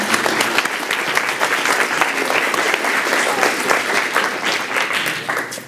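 An audience applauds to welcome a speaker to the microphone at a dinner event, with steady, dense clapping that holds for several seconds and fades slightly at the end.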